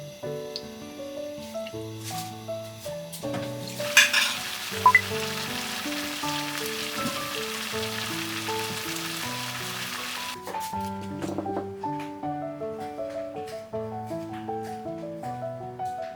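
Steamed, split chestnuts are rewarmed in a frying pan, a soft steady sizzle rising for several seconds in the middle under light background music.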